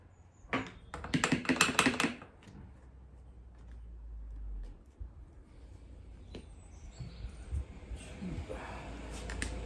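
Sharp tapping behind seat trim to pop the trim clips loose on a Morris 1000: a cluster of quick, close taps early on, then scattered single knocks over low background rumble.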